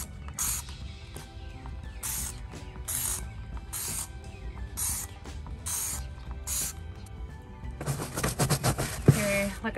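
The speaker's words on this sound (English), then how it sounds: "So I'm gonna give it a rinse, I'm gonna spray it, and I'm going to scrub it." Trigger sprayer misting Dawn Powerwash onto a car floor mat, with several short bursty hisses spaced a second or so apart, then a denser, louder spray and rattling at the end, close up.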